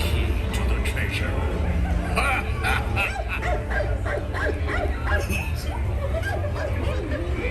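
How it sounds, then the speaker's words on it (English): A dog barks and yips repeatedly amid the animatronic scene of a Disneyland pirate ride, the barks spaced through a busy mix of crowd chatter and ride dialogue. "Here, Dookie. Here, Dookie. Nice doggy"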